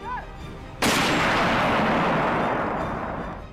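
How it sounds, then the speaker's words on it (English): A mortar round is fired by soldiers, a single sudden loud blast followed by a long rumbling decay, after a brief quieter lead-in. "a section of soldiers were going and firing mortar rounds as onlookers observed"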